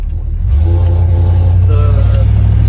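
A car with a welded differential drives along, its engine a steady low drone, close and loud, with a few faint tonal squeaks above it.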